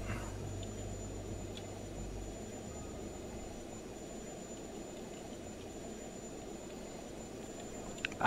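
Airplane engine in the Just Cause 2 video game hums as a steady, moderately loud drone throughout, with a brief low rumble early on and a small click near the end.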